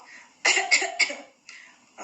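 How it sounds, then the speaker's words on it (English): A few harsh, close coughs in quick succession, followed by two weaker throat-clearing bursts after a short pause. "I think I coughed somewhere inside here"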